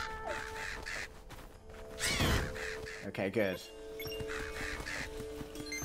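Crows caw in the Legend of Zelda: Echoes of Wisdom game, set in the Gerudo Desert, with harsh calls rising over steady game music and a loud crash-like burst near the middle, and a person talking briefly.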